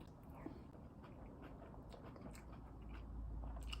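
Chewing soggy Fruity Pebbles cereal with only slight crunch, close and soft wet mouth sounds repeating in an irregular rhythm, no talking.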